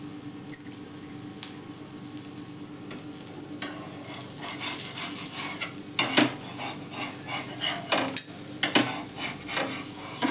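A whole leaf roasts in a pan over a low gas flame, giving a soft, continuous crackle and sizzle with scattered light scrapes and clinks of utensil against the pan, close by and with no talk.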